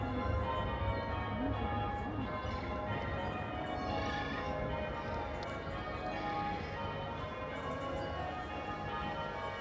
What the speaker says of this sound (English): It must be church bells, eh?